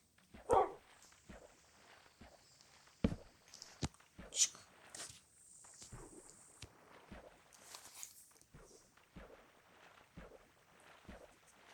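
A dog on a boat moves about with scrabbling steps and sharp knocks, struggling to climb out, giving a few bursts of noise and no clear barking.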